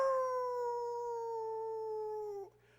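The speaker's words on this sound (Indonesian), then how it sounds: "Anjing saja melolong gini nih." A single dog howls in one long, steady, slowly falling tone, fairly close and alone, ending abruptly near the close with a brief rustle after.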